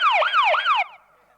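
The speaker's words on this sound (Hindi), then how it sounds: "अरे ये एम्बुलेंस है कि पुलिस कह रहा है?" An ambulance siren at a Ramlila comedy performance in Dadri, Rath, Hamirpur wails in loud, rapid rising-and-falling electronic sweeps, three cycles, then cuts off abruptly.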